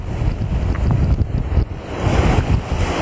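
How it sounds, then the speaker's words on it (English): Knee-high waves breaking on an Australian beach with strong rip currents, giving a continuous roar of surf mixed with heavy wind buffeting the microphone. "Waves right out there that are breaking probably about, say about knee high."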